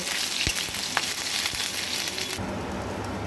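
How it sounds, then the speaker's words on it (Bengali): Grated ginger and bay leaf frying in hot oil, a dense, bright sizzle with a few soft stirring taps, easing slightly toward the end. "এবার ভালো করে একটুখানি তেলে ভেজে নেব"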